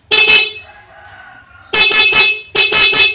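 Motorcycle horn, just adjusted after failing to sound, blares in three loud close honks: a short blast, a pause, then two more bursts with a brief gap between them, alone without talk.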